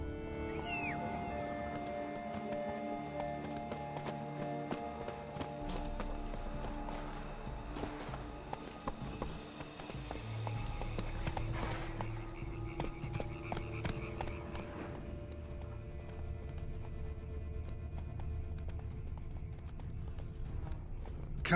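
Horse hooves clip-clopping in The Witcher 3: Wild Hunt, a steady walking rhythm of a ridden horse on a road, heard moderately close over a continuous game music score, with no talk.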